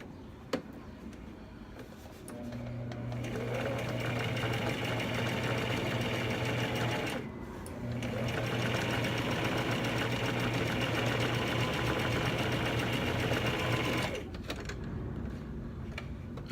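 A sewing machine stitches fabric in two long continuous runs with a steady motor hum, split by a short pause, and a few ticks at the start.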